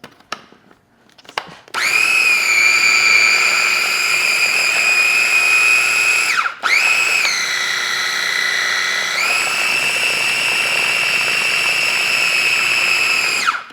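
Kitchen food processor whirring loud and steady while blending a sugar-free mint chocolate mixture, a sharp high motor whine after a brief start, one short stop and restart, then a slight pitch shift before cutting off.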